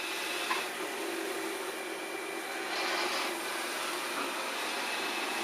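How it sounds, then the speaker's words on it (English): A robot vacuum cleaner runs in quiet mode at about 50 decibels with a steady, fairly quiet whooshing hum, smooth and unchanging throughout, with no voices. "let's start the robot in vacuum mode and quiet section level"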